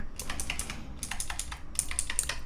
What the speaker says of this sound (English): So now both of your mouse and your keyboard have like a tactile click.